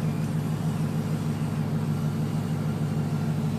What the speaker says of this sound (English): the air conditioning just hit auto, and you can hear the engine rev up a tiny bit